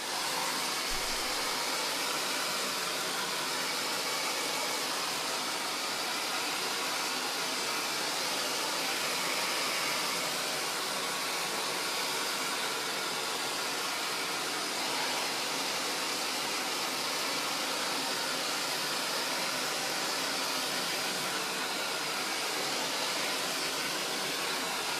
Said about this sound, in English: I'm just going to blast my hairdryer on it just for a moment